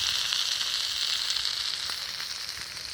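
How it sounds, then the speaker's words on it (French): Food cooking on campfire embers at a solo December bivouac outdoors gives off a continuous bright hiss of sizzling, close and steady, with a few faint crackles and no voices. "on va placer ça sur les braises. On va faire cuire."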